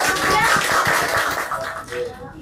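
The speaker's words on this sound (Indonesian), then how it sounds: "Ayo tepuk tangan untuk" Scattered classroom clapping from students on an industry visit, a loose patter of hands fading toward the end, with voices talking over it.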